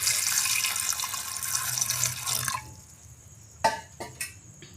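Water poured into a pressure cooker holding overnight-soaked chickpeas, a steady rushing flow for a few seconds that stops, followed by a couple of sharp drips and clinks.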